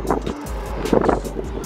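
A Honda NSX drives on a retired go-kart track, a loud, close rush of engine and wind noise with surging bursts over a brief stretch.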